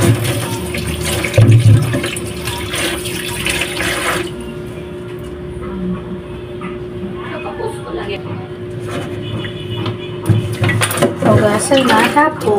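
Running tap water pours steadily over a peeled ripe guava as it is rinsed, a continuous rushing splash with a voice speaking over it now and then.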